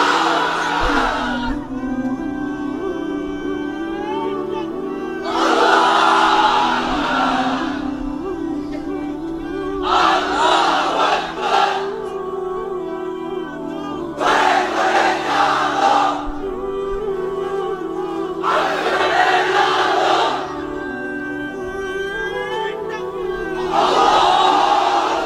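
A large crowd of unmarried men at a religious gathering shouting the takbir chant in repeated loud collective bursts, several swelling roars separated by brief pauses with a strong voice leading between them.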